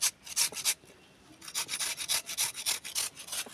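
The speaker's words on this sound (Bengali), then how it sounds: "মা এদিকে আলু ঘষে দিচ্ছে" Potatoes being grated by hand in a home kitchen, rhythmic rasping strokes in quick bursts, a short pause, then a steady run of repeated scrapes close by.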